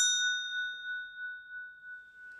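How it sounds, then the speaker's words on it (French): A single bright bell strike rings out and sustains as a clear, pure tone that slowly fades, alone in a quiet room. "On va se faire un petit coup de cloche."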